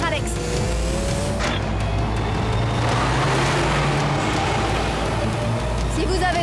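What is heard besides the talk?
car accelerating in a cartoon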